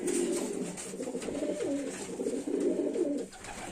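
Broad-tailed pigeons coo softly and steadily in a low, rolling rhythm, fairly close, with a faint background hiss and no talking.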